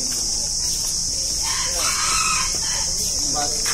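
A desi rooster crows once at Pipli Zoo in Kurukshetra, Haryana, a clear, drawn-out call from fairly close, over a constant high insect buzz and some faint background voices.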